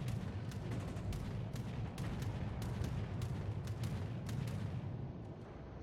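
Gunfire in a video game cracks out as a rapid series of sharp shots over a dense, rumbling battle din, steady and fairly loud throughout before easing slightly at the end.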